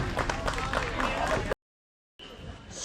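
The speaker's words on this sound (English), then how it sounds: "Give them all a big round of applause" Crowd applause and cheering at an outdoor lumberjack competition in Hamburg, New York, a steady wash of clapping under an announcer's voice, cut off abruptly before a quieter tail.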